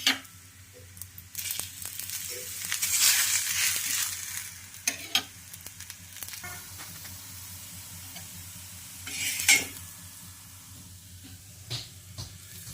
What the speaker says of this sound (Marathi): इथे दुसरा सुद्धा आपण पराठा भाजून घेणार आहोत आणि यावर तेल घालायचं आहे आपल्याला